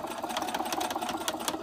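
A sewing machine back-stitches a seam on a fox plush toy, a rapid even whirring stitch rhythm, close and steady throughout with no talking.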